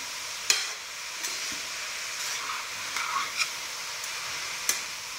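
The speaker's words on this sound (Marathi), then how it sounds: "तर एक 5 मिनिट आपण हे अजून व्यवस्थित परतून घेऊया गाजर मोठ्या गॅसवरच" Grated carrot sautéing in ghee over high heat for gajar halwa, a steady hissing sizzle with a few sharp spoon taps and scrapes against the pan, close and even.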